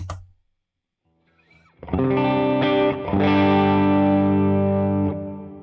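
After a brief pick noise and near silence, an electric guitar through a compressor pedal strums a chord, then another, each sustaining evenly and loudly with smooth, rounded tone.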